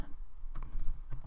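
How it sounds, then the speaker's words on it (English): Computer keyboard keys clack in a few quick, close strokes with short pauses between them, while typing code for a block-generation mod. "then we're gonna type in demo or block"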